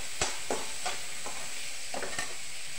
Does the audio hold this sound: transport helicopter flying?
no